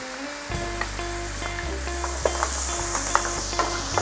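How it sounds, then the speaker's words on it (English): Curry sauce with turmeric and curry powder simmering in a pan gives a steady close sizzle and bubble, with light clicks of a utensil stirring and scraping. "So we want to let this simmer for a few minutes like this."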